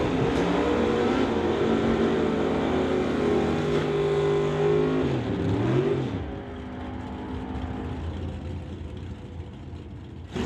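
Drag race between a 1946 Ford race car called Old Yeller and a Chevelle: loud engines roar and rev close by for about six seconds, pitch sweeping up and down, then fading into a lower, more distant rumble.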